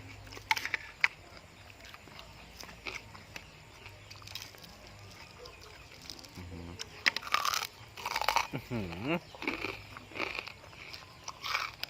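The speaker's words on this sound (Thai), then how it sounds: "มนุษย์กินหมูกรอบ" Homemade crispy pork belly is crunched in close, loud bites that come in irregular bursts, sparse at first and then frequent in the second half, with a brief vocal sound among them.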